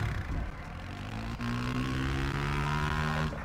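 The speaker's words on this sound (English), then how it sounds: "Fucking helicopter." A droning helicopter engine in the video game Homefront: The Revolution hums steadily with rising tonal whine, close and loud, hovering nearby, with no talking.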